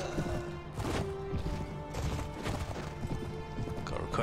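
Horses gallop through a Mount & Blade Floris battle, dense thudding hoofbeats mixed with clashing combat noise, loud and continuous with a faint voice underneath.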